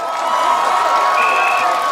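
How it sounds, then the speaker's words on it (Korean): Festival audience at the opening of the 2023 Jinhae military band festival applauding and cheering, a steady dense wash of clapping and voices with a faint whistle-like tone partway through. "박수 소리 감사합니다"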